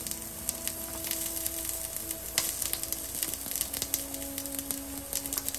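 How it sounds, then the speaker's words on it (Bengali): Beef sizzles in a pan with red onion added, giving a steady frying hiss dotted with sharp crackles and pops, close and moderately quiet. "একটু পেঁয়াজ, লাল পেঁয়াজ আমি দিয়ে দিতেছি বেশি"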